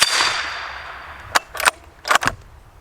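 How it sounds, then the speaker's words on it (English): Subsonic 300 Blackout rounds from a suppressed Ruger American Ranch rifle striking a steel hostage popper target outdoors: a fading noisy burst, then several sharp metallic smacks in quick pairs, loud and close, with no talking. "the report of the bullet smacking the steel is so much louder than the gun actually firing"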